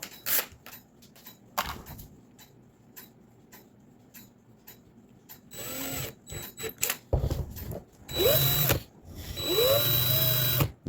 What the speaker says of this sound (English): I'm going to put it in my drill and see how bent it is